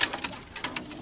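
Pigeons cooing and fluttering in a loft, a few soft calls rising and fading one after another at close range, with no talk.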